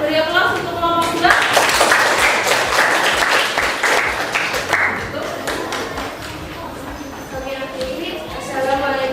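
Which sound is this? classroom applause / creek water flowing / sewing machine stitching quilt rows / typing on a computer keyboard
classroom applause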